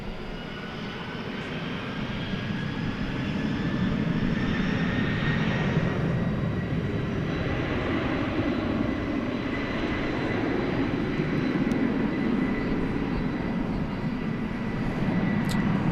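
UPS 755, a heavy jet, takes off from runway 18 left at Dallas Fort Worth at night, its engines building to a loud, sustained roar that holds steady for about sixteen seconds with no voices.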